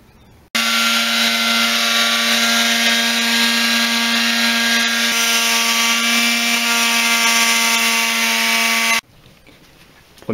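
An angle grinder sands filler on a motorcycle frame, giving a loud, steady high-pitched whine that starts suddenly, holds unbroken for about eight seconds and then cuts off.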